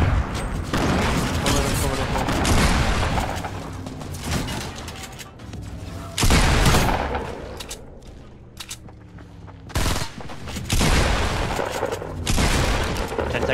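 Rockets and gunfire in Fortnite, loud dense volleys of shots and booms filling most of the stretch, with a brief quieter gap in the middle before heavy firing resumes.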